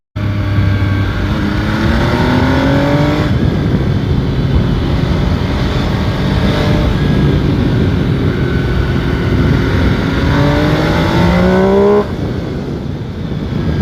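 A 2021 MV Agusta Brutale 800 RR motorcycle accelerating hard, loud engine rising in pitch through several quickshifter gear changes with brief dips between revs, close and continuous.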